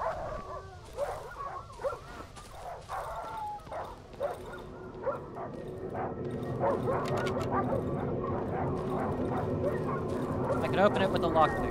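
Suffering dogs whimper, yip and bark in the horror game Darkwood, the sounds coming in short bursts over a steady droning ambience, with someone talking over part of it.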